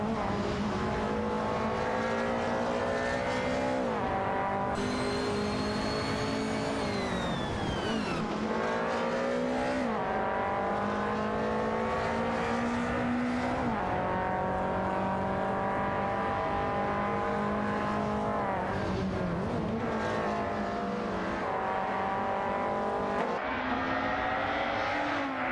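Race cars roar continuously in a racing video game, engines rising and falling in pitch through gear changes as cars overtake one another, loud and unbroken throughout.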